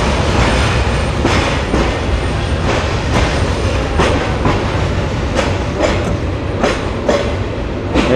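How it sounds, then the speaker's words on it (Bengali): The Jayantika Express train pulls out of Noapara railway station with a loud, dense rumble of rolling stock and rhythmic clickety-clack of wheels over rail joints, steady and close throughout without talk. "এই যে আমাদের ট্রেন এখন নোয়াপাড়া রেলওয়ে স্টেশন ছেড়ে চলে যাচ্ছে"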